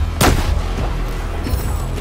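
A single loud gunshot bursts out early in Battlefield 4, followed by a rumbling, booming game soundscape with a faint echo trailing off.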